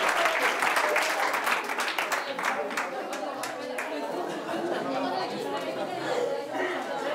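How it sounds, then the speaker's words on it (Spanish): An audience at a conference on creativity and humor claps in a dense, steady round of applause mixed with chatter, continuing without letting up. "Un aplauso."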